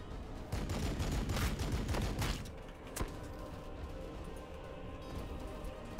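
Faint long-range gunfire from units in the Warhammer 40,000: Battlesector game, with a rapid crackling volley, then a single sharp crack, then a quiet steady background.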